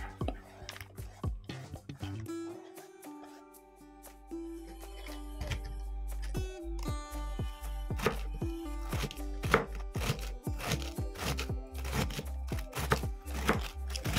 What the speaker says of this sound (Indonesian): kubisnya aku potong-potong sembarang aja seperti ini